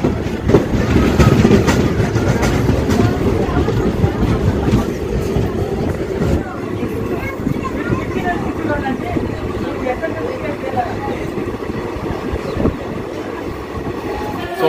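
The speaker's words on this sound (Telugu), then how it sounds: "ప్రసన్నపల్లి రైల్వే స్టేషన్ డిపార్చర్ చూడండి ఫ్రెండ్స్" A DEMU train pulling out of Prasannapalli railway station, its loud continuous rumble and wheel clatter building early and then settling into a steady roar with some rattling.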